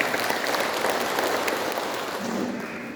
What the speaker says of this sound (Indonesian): Tepuk tangan untuk Muhammadiyah.